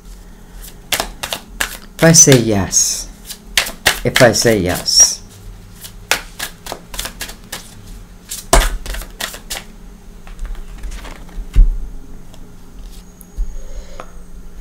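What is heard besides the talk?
shuffling tarot cards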